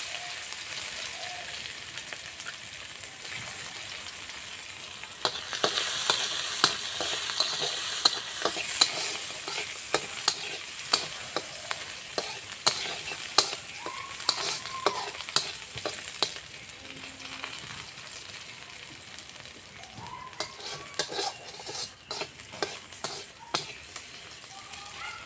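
Onions fry with cumin in oil in a pan, a dense, rain-like sizzle that swells as they go in, with scattered stirring clicks and no voices.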